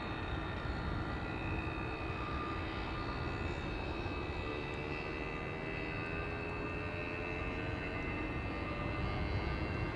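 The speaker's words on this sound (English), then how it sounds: "Transavia 737 to Salzburg is also coming this way." A Transavia Boeing 737 departing Amsterdam Schiphol, its jet engines a steady, fairly distant broadband roar with a faint whine, continuous and unbroken for the whole stretch.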